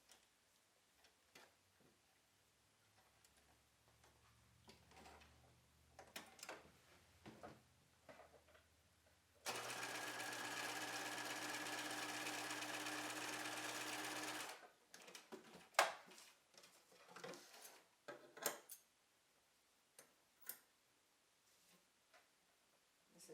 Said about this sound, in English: I'm going to sew the top edge of the fuzzy Velcro to the outside lining.